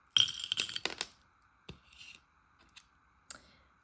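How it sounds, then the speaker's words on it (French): Metal scissors drop onto a hard surface, giving a quick run of sharp clattering clicks, then a few lighter taps and a final small knock, fairly close in a quiet room. "j'ai les ciseaux qui sont tombés en dehors"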